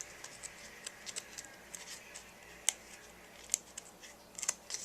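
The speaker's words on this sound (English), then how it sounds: "I'm going to go ahead and peel away the backing" Backing being peeled off foam tape for a handmade buckle card, a series of faint scattered crackles and sharp little ticks, close and quiet, with no voices.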